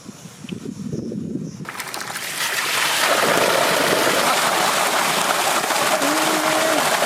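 Water is splashed and scooped while being fetched from a village stream. A quiet start gives way to a loud, continuous rushing and splashing that runs on steadily to the end, close by and with no talk.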